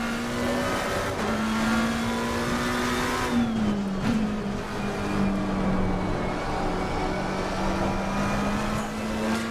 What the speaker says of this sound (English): This McLaren feels so good around this track. Just get on the power so early out of the corners